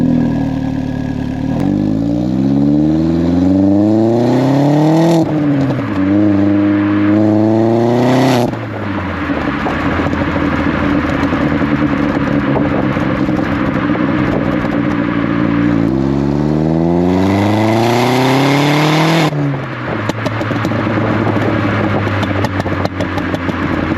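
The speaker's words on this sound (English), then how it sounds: "let's get on the road and hear what that exhaust sounds like again." Vauxhall Astra H VXR with a replaced sports cat, heard on the road: the engine note rises repeatedly through the gears with loud revving pulls and brief dips between shifts, a strong close exhaust drone throughout.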